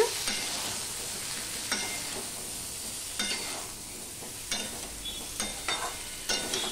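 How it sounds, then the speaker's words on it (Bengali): Vegetables with chopped tomato and salt are stirred in a frying pan over a low-to-medium gas flame, with soft sizzling throughout and a few sharp scraping strokes of the spoon against the pan. "এবার সম্পূর্ণটা আমি মিশিয়ে নিচ্ছি"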